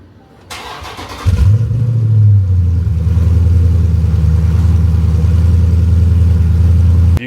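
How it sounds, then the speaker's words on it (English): A Dodge Scat Pack engine fitted in a Chrysler 300 cold-starts loud and close: a short cranking burst, then it catches with a flare of revs and settles into a steady, rumbling high idle that runs to the end. "Try a little cold start real quick on the Scat."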